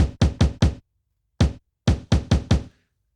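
Chopped drum break one-shots played on an Akai MPC with reverb added, a series of punchy close knocks in quick clusters of four and five with short reverb tails and gaps between.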